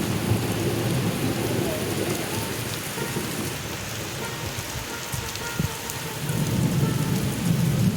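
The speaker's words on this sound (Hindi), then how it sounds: "साथ में बादल गरज रहे हैं" Steady heavy rain drumming on surfaces along a pilgrimage walking route beside the Narmada river, with low rumbles of thunder rolling underneath; a dense, continuous wash of rainfall with no voices.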